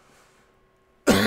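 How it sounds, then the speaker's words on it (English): A single sharp cough from a live streamer breaks a near-silent pause, loud and close to the microphone. "that cough. I don't know what's up with it."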